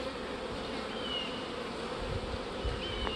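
Honeybees in a hive holding ten frames of mostly capped honey make a steady, dense buzzing drone, close up and continuous, with no voices.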